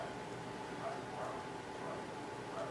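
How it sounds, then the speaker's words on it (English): Neighbour's dogs barking through the shared wall of a terraced house, faint muffled yaps recurring every second or so under a steady background hum. "there's the dogs going again, barking away"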